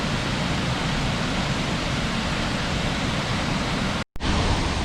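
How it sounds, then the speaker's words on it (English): Waterfall on a mountain hiking trail in the North Carolina mountains, a steady, dense roar of falling water filling the whole clip, close and loud, with a brief dropout near the end. "I just love hearing the sound of this waterfall"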